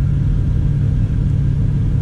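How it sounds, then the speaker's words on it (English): A repainted night truck's engine rumbles steadily at low pitch while it eases into a tight alley-dock parking space. The drone is continuous and close, with no voices over it. "That repainted night truck trying to squeeze in there."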